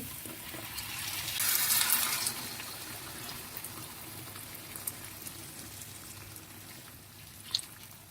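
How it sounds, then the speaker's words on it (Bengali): Boiling hot water is poured onto fried polao rice for beef tehari, a brief loud hissing gush near the start that settles into quieter bubbling and sizzling, with a small clatter near the end. "চাউলগুলো ভাজা হয়ে গেছে এখন আমি ফুটন্ত গরম পানি দিচ্ছি"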